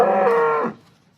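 A heavy, pregnant local Banaskantha cow gives a single loud, close moo that lasts under a second and then stops abruptly, leaving quiet.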